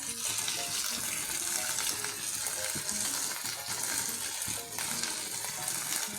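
Garlic and soaked moong dal sizzle in hot oil with onions, a dense, steady crackling hiss with faint clinks from stirring, close and continuous throughout.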